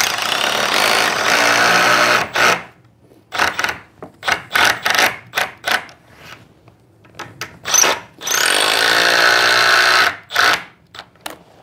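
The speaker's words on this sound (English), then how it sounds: "the screws just pull in nice and softly because the batten isn't" A drill drives screws into a wooden batten that isn't over-dry, in a series of start-stop bursts: two long whirring runs and many short revving pulses, close and loud.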